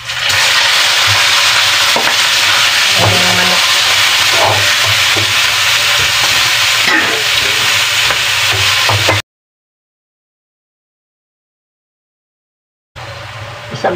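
Meat frying in a pan for homemade empanada filling, a loud, steady sizzle and hiss that runs for about nine seconds, cuts to silence, then briefly returns at the end.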